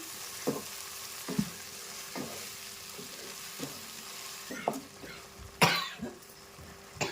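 Tomato paste fries in a pan for a rui fish pulusu curry: a steady, quiet sizzle broken by repeated scraping stirs of the spoon and a louder scrape near the end.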